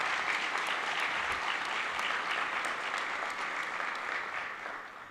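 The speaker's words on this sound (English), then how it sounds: "Let's give them a round of applause too." A school award ceremony audience claps steadily and loudly for a group of student honorees, dense applause sustained throughout before tapering slightly at the end.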